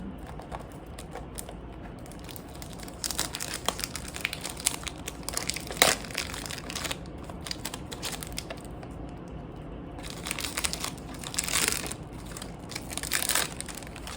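A paper bag from Hermès perfume packaging crinkles and rustles up close while being unboxed, in irregular bursts that swell and fade over steady low room noise.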